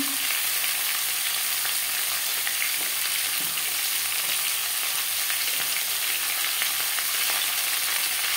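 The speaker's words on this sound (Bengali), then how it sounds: "ভেজে নেওয়ার পর দিয়ে দেব টুকরো করে কেটে রাখা আলু" Cut potato pieces fry in oil in a pan, added after cumin and bay leaves were fried for a fish curry with potato and green banana. A steady, close, dense sizzle runs throughout with no talking.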